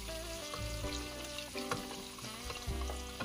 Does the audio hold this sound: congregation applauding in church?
no